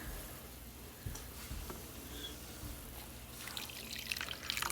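Freshly brewed coffee poured out of a Bonaverde Berlin roast-grind-brew coffee machine, a soft close trickling stream that grows into a brighter, louder splashing pour toward the end, with no talking.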